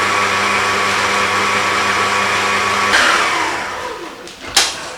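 An electric mixer whirs through a quick mix of Biscoff buttercream, a loud steady motor whine that winds down partway through, followed by a clatter.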